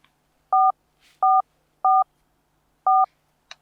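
A telephone number is punched in on a keypad: four clear two-tone dialing beeps at uneven intervals, close and loud, with near silence between them and no talking.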